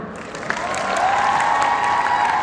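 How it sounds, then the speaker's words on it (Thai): A showcase audience claps together, a dense, steady wash of applause that swells slightly and holds, with light cheering mixed in. "ถ้าให้ใครเห็นด้วยขอเสียงปรบมือค่ะ"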